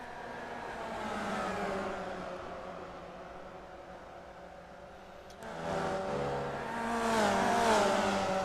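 A field of race cars in iRacing roars past, engine notes swelling and fading as cars sweep by, with a louder surge of revving near the end and no talk over it.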